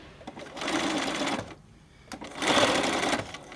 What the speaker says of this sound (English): I decided to show sewing one seam with the pin basting just to reinforce why I pin baste